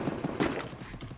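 Rapid gunfire from a video game, a short burst of several quick shots at moderate loudness with no other sound.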